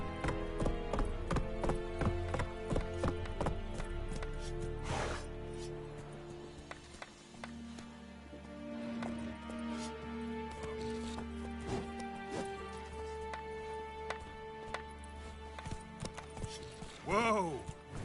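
Geralt's horse Roach in The Witcher 3: Wild Hunt, hooves clip-clopping in a steady galloping rhythm under music and talking voices, with a neigh near the end.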